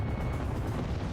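A missile strikes an enemy plane in the video game Ace Combat Zero, a brief loud rumbling blast that fills the moment without talking.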